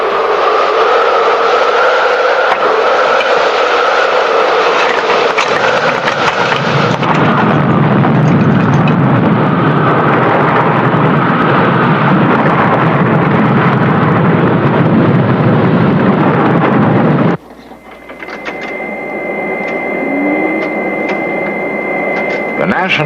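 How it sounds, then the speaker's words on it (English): Simulated tornado wind blasts a model city, a loud, continuous roaring rush that shifts in tone partway through, then cuts abruptly to a quieter, thinner whoosh. "Observing the effects of a simulated tornado on this model city"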